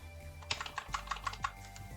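Fingers type on a computer keyboard while entering code in Kotlin, a quick, close run of light clicking keystrokes heard alone at low volume.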